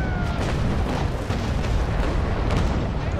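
A sailing warship's cannon broadside thunders in the age-of-sail game Naval Action, a continuous loud roar of overlapping booms with several sharper blasts rolling through it.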